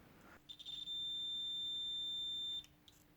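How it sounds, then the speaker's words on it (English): A steady high-pitched electronic beep from a multimeter continuity test holds for about two seconds, preceded by a few brief chirps, over a low background hum. "If the multimeter beeps, it means there's continuity"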